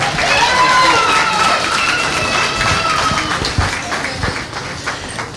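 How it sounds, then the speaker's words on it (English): Wedding guests applaud in a continuous burst of clapping that gradually thins and fades, with some cheering mixed in and voices talking over it. "everybody give all a big round of applause"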